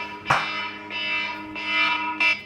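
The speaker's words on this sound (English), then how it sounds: "It's my meal 3 alarm, sorry." A phone alarm plays a short repeating electronic melody, several bright tonal bursts in quick succession, fairly close and clear.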